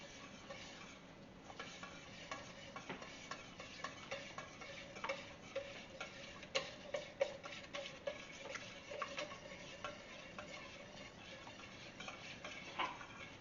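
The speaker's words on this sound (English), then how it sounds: "I'm going to mix that till it's all combined together" Chocolate brownie batter being mixed in a bowl, faint scraping and stirring with light irregular taps of the utensil against the bowl, quiet and close with no talking.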